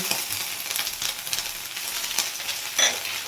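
Grated ginger and chilli paste fry in a pan, a steady close sizzle with stirring scrapes and one brief metallic clink near the end, no talking.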